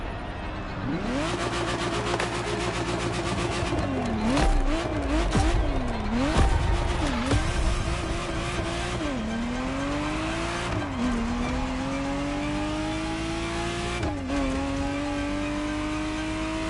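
A Ferrari Testarossa in a video game, its engine loud and close as it revs up and down through repeated gear changes, with tire squeals and racing effects layered over the drive.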